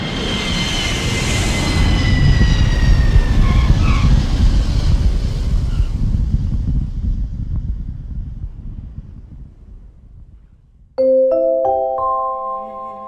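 An airplane lands at Kilimanjaro International Airport in Tanzania, heard from inside as loud rumbling cabin and engine roar that gradually fades, followed by a bright multi-tone cabin chime near the end.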